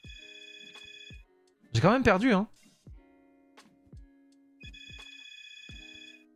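A telephone rings with a short, warbling electronic trill between stretches of repeating tones from a board game app, while a person speaks quietly.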